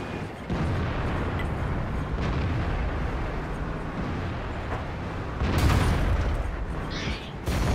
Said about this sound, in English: Got a bit of support from artillery there